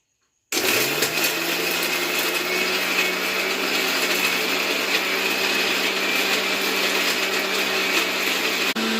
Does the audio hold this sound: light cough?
no